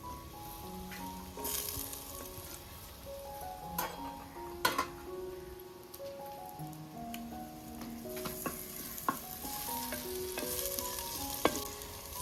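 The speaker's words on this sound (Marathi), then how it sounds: "आपला कांदा टोमॅटो हे शिजतोय" Onion, curry leaves and tomato fry in a pan, giving a steady close sizzle with occasional sharp ticks and clicks of stirring, while a light melodic tune plays underneath.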